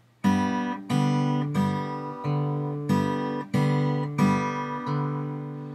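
An acoustic guitar is fingerpicked in a steady Jingle Bells pattern, thumb and fingers plucking together, a handful of ringing chord plucks repeating at an even pace, clear and close.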